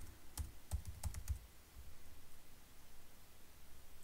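Keystrokes on a computer keyboard as a username and password are typed: a quick burst of about half a dozen clicks in the first second and a half, then only faint room noise.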